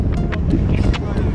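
Strong wind roars during a winter snowstorm in Manitoba, Canada, a steady buffeting rush across the microphone with faint scattered higher whooshes, and no clear talk.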